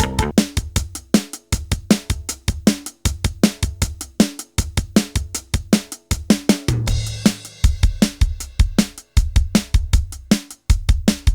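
A drum bus plays a busy, punchy pattern with an automated EQ high-pass filter at 90 Hz and a small presence boost at 350 Hz. The kick loses its low weight and the hits stay tight and steady, without accompaniment.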